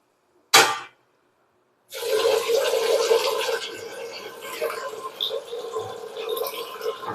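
Ration rice is washed in water by hand, first with a short sharp splash, then a long stretch of sloshing, swishing and rubbing of wet grains that continues with small clinks.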